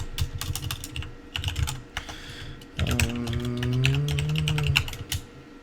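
Someone types a password on a computer keyboard: a quick, close run of crisp key clicks, uneven in rhythm, over a faint background hum.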